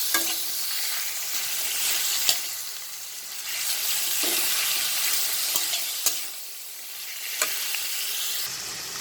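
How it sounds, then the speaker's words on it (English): Continuous close sizzling of minced chicken frying in a pan for chicken keema, swelling and easing as it's stirred, with occasional clinks of a utensil. "After frying the minced chicken, the chicken keema for maybe a minute or two"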